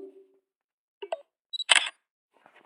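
Camera shutter sound from a phone app after the photo button is tapped: a crisp, close mechanical click-snap, set among a few faint taps and small electronic blips in an otherwise quiet room.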